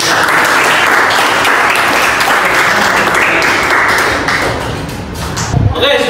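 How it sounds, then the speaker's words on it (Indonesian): A classroom audience gives sustained applause for a student presentation group, a dense, steady wash of many hands clapping that fades slightly toward the end. "kita tepuk tangan untuk"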